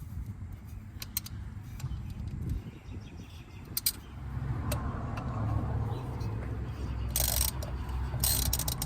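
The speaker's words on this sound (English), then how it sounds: "I'm gonna need the 8mm with the ratchet" An 8mm socket on a ratchet clicks in short bursts while tightening transmission valve body bolts on a 2006 Dodge Dakota 4.7L. The clicks come close and fairly quiet over a low background hum, with a denser run of ratcheting near the end.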